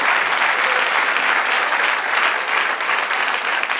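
A church congregation claps steadily for the Lord, a dense, even wash of applause that holds at full strength throughout with no voices breaking through.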